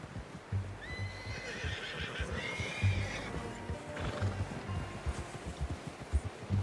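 A horse in the video game Red Dead Redemption 2 whinnies in a long, high, wavering neigh, with hooves clip-clopping underneath and a faint voice nearby.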